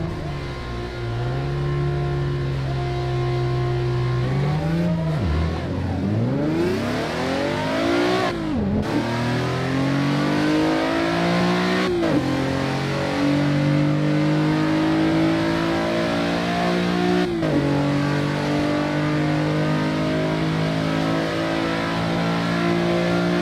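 A Nissan 370Z V6 in Assetto Corsa revs up close and loud, its pitch climbing through the gears with sharp drops at each shift, then rising again in long sustained pulls.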